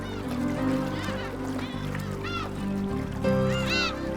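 Black-tailed gulls call at a coastal lagoon, a flock giving repeated loud, nasal, mewing cries that overlap one another close by.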